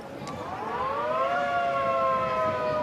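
A loud, sustained hooter wails for half time at a rugby sevens match in Dubai, France against Russia, with a slightly rising then falling pitch, holding for several seconds over a low crowd murmur.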